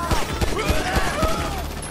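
Bursts of gunfire in the GTA 5 video game, loud repeated shots over a busy game mix with whistling tones, and no clear talk during it.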